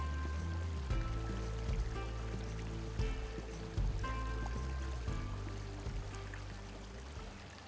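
Steady broadband rushing of the Humber River in Newfoundland, swollen after rain, continuous and fairly loud, with occasional low thumps and knocks over the constant wash.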